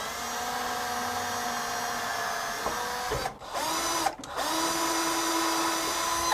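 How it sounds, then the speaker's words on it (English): A power drill pre-drills holes in the wood of a table saw sled, whining at a steady pitch with a slight winding up and down and two brief pauses, then running on at the same level. "I'm just going to be pre-drilling some holes."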